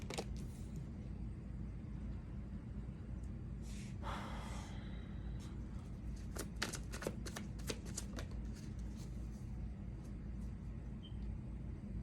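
Tarot cards drawn and shuffled from a deck during a pick-a-card reading: a few soft papery slides around four seconds, then a run of short crisp card snaps near the middle, over a steady low room hum, with no talk.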